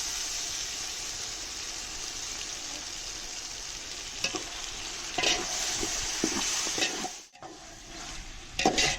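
Marinated mutton sautéing with ginger garlic in a pan, a steady close sizzle and hiss throughout, broken by a few scraping stirs near the end.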